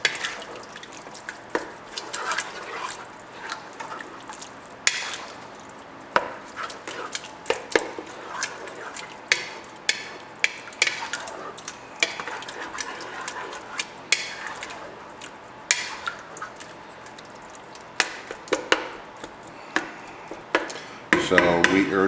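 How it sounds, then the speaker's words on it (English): A spoon stirs hot dog chili sauce in a pot, with repeated scraping and clinking against the metal at an uneven rhythm, close and moderately loud, with a brief louder burst of clatter near the end. "we're going to give this a good stir and get all this mixed up."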